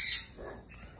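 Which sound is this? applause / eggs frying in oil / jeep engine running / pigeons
pigeons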